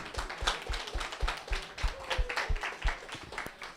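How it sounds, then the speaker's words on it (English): An audience applauds at a gamedev meetup, a dense patter of hand claps with strong low thumps running through the whole stretch, fairly close and steady with no talk over it. "a big round of applause."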